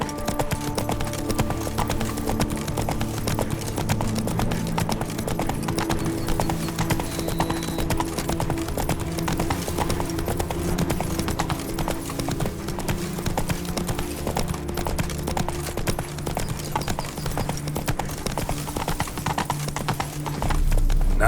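Roach the horse trotting in The Witcher 3, a steady, close rhythmic clip-clop of hooves under game music, with brief moments of character voices.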